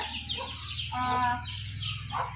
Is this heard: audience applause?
no